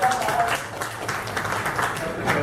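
Audience applause at an All India Mushaira poetry gathering in Navi Mumbai, a dense steady clapping from a large crowd lasting the whole moment, fairly loud and continuous.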